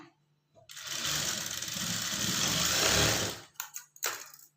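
A sewing machine stitches blouse fabric in a steady fast whirring run of about three seconds, close and fairly quiet, followed by a few short stop-start bursts.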